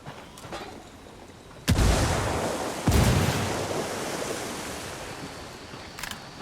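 A grenade blast in the Ghost Recon Wildlands video game sounds as two sharp, loud explosions about a second apart, each followed by a long, rumbling, noisy decay with no voices.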